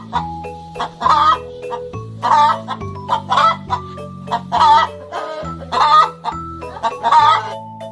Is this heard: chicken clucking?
yes